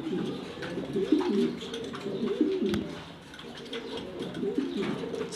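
A male and female pigeon kept as a pair in a Mirpur, Dhaka loft coo in rolling, overlapping phrases close by. There is a brief lull near the middle before the cooing swells again, and scattered light clicks and rustles are heard.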